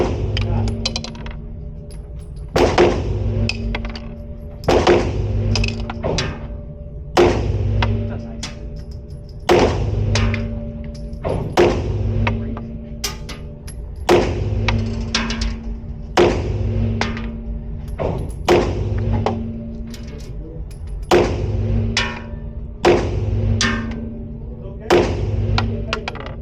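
A Walther Q5 Match SF pistol fires about a dozen sharp, loud reports at a steady pace on a shooting range, each a hard crack with a short tail, while someone talks between shots.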